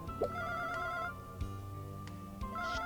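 Telephone ringing in the PS1 video game Linda Cube, a steady electronic ring that repeats in bursts over the game's background music.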